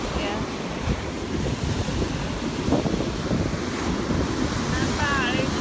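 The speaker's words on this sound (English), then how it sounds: "Waves are massive today." Massive, rough ocean waves crash on a Myrtle Beach shore in a steady, loud surf roar, with wind buffeting the microphone throughout and no break in the noise.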